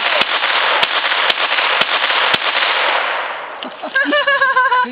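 A .22 caliber pistol fires five sharp, evenly spaced cracks over a steady hiss of outdoor noise, followed by excited shouting.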